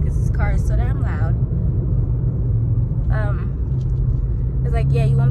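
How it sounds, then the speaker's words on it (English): Loud, steady low engine and road rumble fills a car interior throughout, with a person talking over it in several bursts. "this car is so damn loud"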